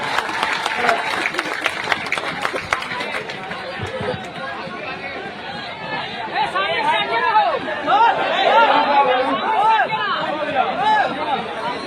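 A crowd at a Plurals party political gathering in Bihar applauds with a dense wash of clapping. Loud chatter and voices run through and over the applause.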